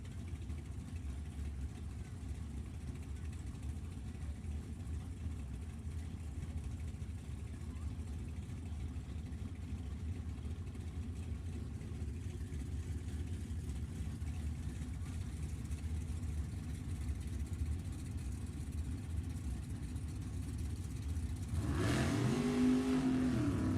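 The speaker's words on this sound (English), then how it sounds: "Lonnie and Greggy take off that Monza way down there" Drag racing cars, including a Monza, at an open drag race, with a steady engine rumble through most of the span before a sharper, louder burst of revving near the end as they launch, heard from a distance with commentary.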